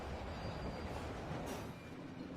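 A train rumbles along the rails with a heavy continuous roar and metallic screech, loud and close throughout.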